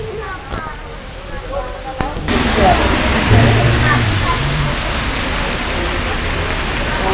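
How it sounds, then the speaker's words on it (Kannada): Heavy unseasonal rain pours in Bangalore, a steady broadband hiss of rainfall on surfaces. It holds constant and fairly loud, with traffic noise underneath and a brief stretch of talk near the start. "ಬೆಂಗಳೂರಲ್ಲಿ ಅಕಲಿತ ಮಳೆ, ಬೇಕಾಗಿದ್ದ ಟೈಮಿಗೆ ಮಳೆ ಬರಲ್ಲ, ಬಾಡ್ದಿರೋ ಟೈಮಿಗೆ ಜೋರಾಗಿ ಮಳೆ ಬರುತ್ತೆ"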